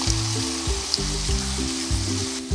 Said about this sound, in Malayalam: ഇനി ഇത് ഹൈ ഫ്ലെയിമിലിട്ട് നമുക്കൊന്ന് വഴറ്റിയെടുക്കാം